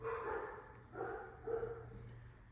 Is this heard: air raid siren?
no